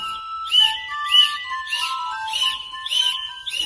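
Painted rooster-shaped Ukrainian folk clay whistle blown in a repeating pattern of bright, warbling trills, about six bursts in under four seconds, close and clear with no talking.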